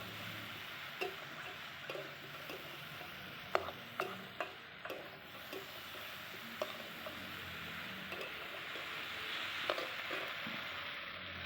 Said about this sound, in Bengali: ভালো করে কষিয়ে নিয়ে এবার চিংড়িটাকে দিয়ে দিলাম। চিংড়িটা দিয়ে আরেকটু কষিয়ে নেব।